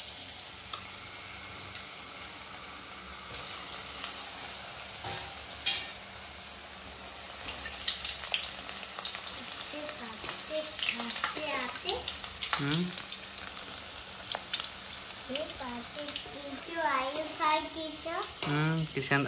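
Potato chips frying in hot oil in a home kitchen, a steady bubbling sizzle that swells as more slices go in, with voices talking and a child's chatter over it.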